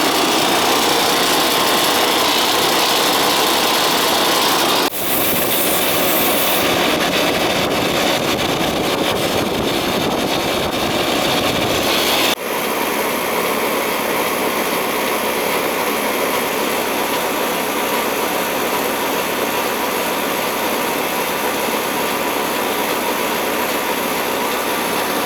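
An old, worn Ruud air conditioner compressor runs with a loud, steady mechanical drone and hiss, interrupted by sharp shifts in tone at about five and twelve seconds, continuous and close with no voices.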